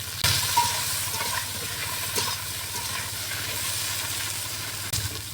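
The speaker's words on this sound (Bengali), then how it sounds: "একই তেলে বেগুনগুলো ভেজে নেব।" Eggplant slices fry in hot oil with a steady, even sizzle and hiss that holds close and continuous, with a couple of brief knocks.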